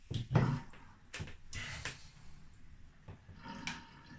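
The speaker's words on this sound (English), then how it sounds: "So let's drain the bath." Water drains from a bath used to clean parts of a Philips Moving Sound D-8304 radio cassette player, heard as irregular gurgles, sloshes and drips in short bursts, fairly quiet and close, with no talk.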